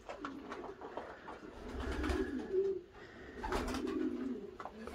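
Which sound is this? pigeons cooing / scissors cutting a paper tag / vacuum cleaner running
pigeons cooing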